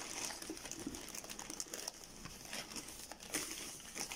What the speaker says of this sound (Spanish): Y vamos a ir estirando el plástico a como nos lo vaya pidiendo.